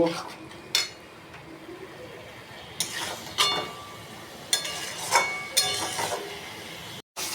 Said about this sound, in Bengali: এবার এটা কষাবো যতক্ষণ না তেল ছাড়বে। এবার ভালো করে কষাবো।